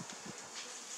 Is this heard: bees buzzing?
yes